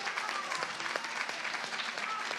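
Faint, distant applause from a panel audience on a festival stage, a soft wash of many hands clapping at an even level without a break.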